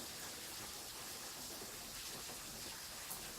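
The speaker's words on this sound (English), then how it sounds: "unfortunately it rained heavy instead, so I can't do anything with this" Heavy rain falls outside as a steady, even wash of broadband hiss with no breaks, faint and distant, no voices.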